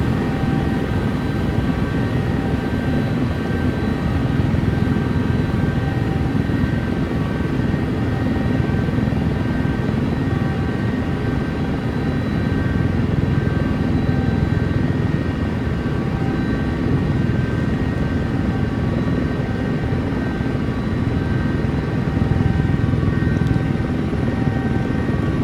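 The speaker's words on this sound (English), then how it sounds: "now we're manually flying the rest of the approach" A Sikorsky helicopter in the X-Plane 12 flight simulator flies a manual approach into Daytona Beach, its rotor and turbine drone steady and loud throughout with constant whining engine tones.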